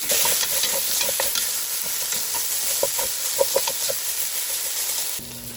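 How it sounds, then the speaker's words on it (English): Two onions with salt sauté in a pot for a pot roast, giving a continuous sizzle dotted with small crackles and stirring sounds, close and even, with no voices. "We're going to add in our 2 onions. The rest of our salt, and we're going to saute that for a few minutes"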